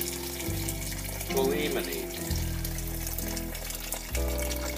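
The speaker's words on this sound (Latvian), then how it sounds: "Man ir vārošs ūdens. Vārīts ūdens. Uzvārīts ūdens. Un mēs viņu lejam tā, lai apmēram 2 cm viņš pārsniegtu" Boiling water pours steadily into a pot of Uzbek plov, a continuous splashing rush under someone speaking Latvian, with music playing in the background.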